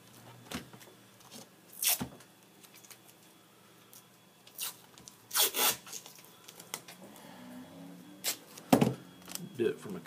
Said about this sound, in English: So I'm going to take and just put a piece of tape across